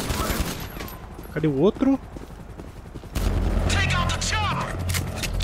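Pistol gunfire in GTA V, heard as a burst of shots early and another sustained stretch of firing later over rumbling game noise, with someone speaking Portuguese between the shots.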